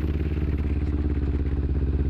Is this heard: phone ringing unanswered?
no